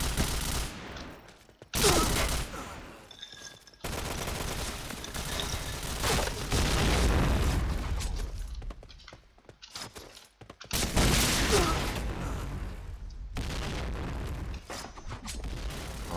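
SPAS-15 shotgun fire in the shooter game Point Blank, with bursts of loud blasts clustered in separate volleys over about sixteen seconds, some ringing and booming, others sharp and clipped, and no speech over them.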